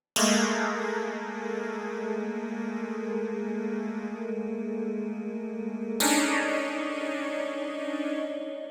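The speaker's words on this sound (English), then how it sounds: "But when we switch to some of these magical chords," A synthesizer sounds a long, dark, ominous chord that swells and sustains, then shifts to a second brooding chord partway through, with no talking.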